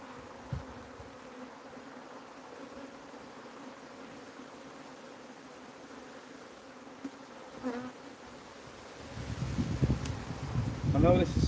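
Honey bees hum steadily around an open hive during a full inspection while swarm cells are removed, a low continuous drone that swells and gets busier near the end, with faint handling noises.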